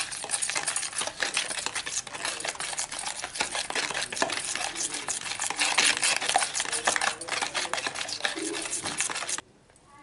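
Ghee and powdered sugar stirred together in a bowl for a homemade coconut cake, a dense continuous scraping and clinking of a spoon that runs steadily for several seconds, then stops abruptly.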